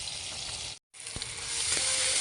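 Pieces of fish sizzle steadily in hot oil in a karahi over a lively flame, a bright continuous frying hiss with one brief dropout and a few soft pops.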